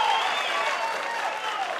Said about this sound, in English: Standing ovation for the match point.